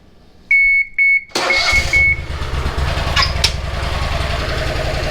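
Bush Hog zero-turn mower with warning beeps, then the engine cranks, catches and settles into a steady close idle, no talk.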